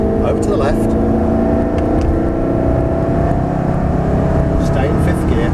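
Ferrari or Audi R8 sports car accelerating at full power on a track, its engine a steady loud drone with a rising whir, while an instructor talks over it throughout.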